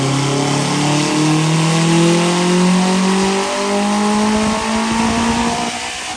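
A car with dual injectors on one hole pulls hard on a run, its engine note climbing steadily through a loud, close, continuous roar without a break.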